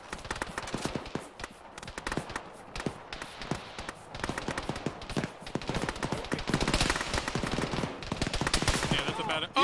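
Heavy gunfire in the military shooter Arma, rapid bursts and single shots crackling continuously, near and loud, with the pace thickening toward the end while voices occasionally sound underneath.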